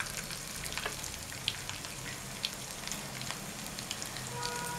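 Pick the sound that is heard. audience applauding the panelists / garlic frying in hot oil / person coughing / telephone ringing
garlic frying in hot oil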